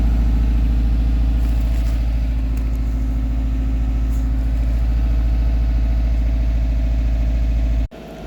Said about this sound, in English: This is the original exhaust on this car.